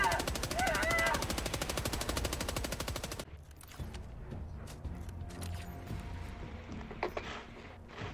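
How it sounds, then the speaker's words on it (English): Sustained rapid machine gun fire in a video game, loud and continuous for about three seconds, then giving way to scattered distant shots and game ambience. "The gun's still going."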